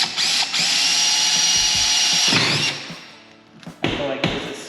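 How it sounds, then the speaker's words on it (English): A power drill bores a hole in a side-by-side for mounting a light bar: a loud, sustained high-pitched whirring run that winds down, followed by a few thuds and a short second burst of drilling. "I'm gonna go ahead and drill the front hole."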